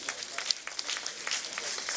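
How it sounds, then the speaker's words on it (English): A sparse round of applause from a small group at a front table during a live election-night event in Nigeria, a handful of people clapping in a quick, irregular patter without voices. "It looks like it's only the front table that is, applauding."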